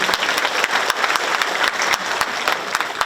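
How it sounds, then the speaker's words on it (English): A crowd at a 50 Years of Freedom celebration applauds with steady, dense clapping and a few sharper individual claps, sustained for about three seconds with no talking. "give her a round of applause, Sherry."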